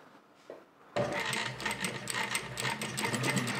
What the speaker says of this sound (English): I've got the machine all threaded up, and I just have two layers of denim here. I'm going to go ahead and sew that.